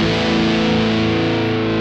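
Electric guitar played through a VOX StompLab 2G multi-effects unit on a distorted preset, a sustained, thick overdriven chord ringing steadily and loud for about two seconds with no talking.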